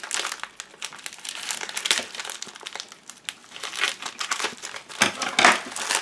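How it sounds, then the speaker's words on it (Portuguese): Crinkling and crunching of an AliExpress plastic mailing envelope being cut open with scissors, a close, continuous run of irregular rustles and snips with a denser burst near the end. "vamos cortar aqui com a tesoura"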